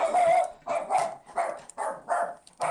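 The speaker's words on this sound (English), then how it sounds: "Put that dog in the cage." A dog barks five or six times in quick succession, close and loud, each bark full and slightly drawn out, with no speech over it.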